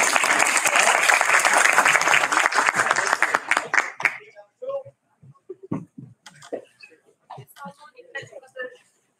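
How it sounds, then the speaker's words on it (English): Conference audience applause at an international sports and education event fills the first four seconds with dense, steady clapping, then breaks off into scattered talk and a few isolated claps. "You can continue applause."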